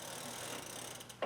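A small wrench tightens a bicycle pedal, giving a brief run of close, quiet ratcheting clicks that ends in a slightly louder final click.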